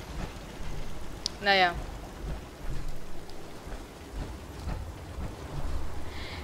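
Steady rain in the Fallout 4 video game, a constant hiss with surges throughout, while someone talks briefly and a short chirping tone rises over it early on.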